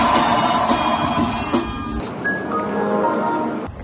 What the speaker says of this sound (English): So when you park, you can make sound effects like this.